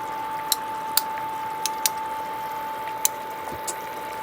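Small balls of vegan dumpling dough drop one by one into a simmering pot, giving several soft, separate plops and splashes over a steady low bubbling hum.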